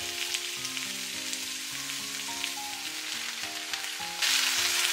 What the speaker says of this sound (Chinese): 继续开大火给它翻炒均匀。